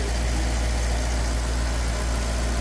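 A 2012 Maserati Quattroporte engine idles steadily after a thermostat change, giving a constant, even hum and rumble that stays at one level the whole time, with no voices.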